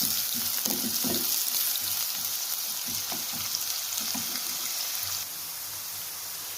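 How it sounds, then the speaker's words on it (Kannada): Onions fry in hot mustard oil with mustard seeds, garlic and green chilli, giving a steady, dense sizzle throughout with occasional stirring scrapes close by; no one speaks. "ಈರುಳ್ಳಿ ಚೆನ್ನಾಗಿ ಫ್ರೈ ಮಾಡ್ಕೋಬೇಕು."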